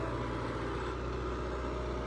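A Swaraj 855 tractor engine runs quietly, a low, steady idling hum with no knocks or rattles, constant throughout.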